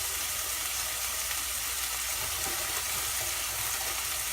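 Scallops searing on high heat in a very hot pan, giving a steady, continuous sizzle and crackle that holds evenly throughout with no talking.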